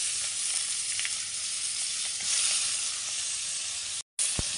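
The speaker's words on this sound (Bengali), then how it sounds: "একটু দিয়ে দিলাম তেল, এবার দিয়ে দেবো একটু পেঁয়াজ কুচি" Chopped onion frying in oil in a kadai, a continuous bright hiss and sizzle with faint crackles, close and steady, with a brief dropout near the end.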